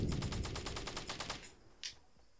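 Rapid automatic gunfire in Fortnite, a fast burst of about a dozen evenly spaced shots that cuts off, followed by one sharp faint crack, somewhat distant.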